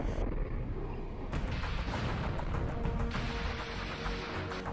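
Heavy, dense gunfire and booming blasts from a combat scene, continuous and loud throughout with sharp bursts layered over a rumbling din.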